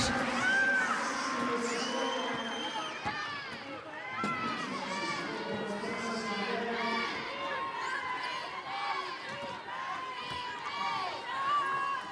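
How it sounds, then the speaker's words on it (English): An excited crowd cheers and shouts at a 2012 London Paralympic wheelchair basketball game at North Greenwich, with bursts of whistles and yells rising and falling in a big indoor arena beneath a commentator's talk. "The crowd absolutely loving it at North Greenwich."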